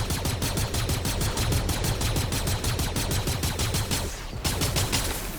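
Rapid, sustained blaster fire from a weapon in Fortnite's Galactic Battle mode, boosted by a medallion, rattling off in a fast unbroken stream of shots with a brief dip near the end before resuming, loud and close.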